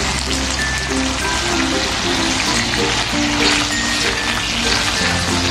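Green beans stir-frying in a hot pan, a steady dense sizzle with crackling spatter running continuously throughout, no voices.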